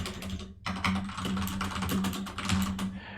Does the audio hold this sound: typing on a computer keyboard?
yes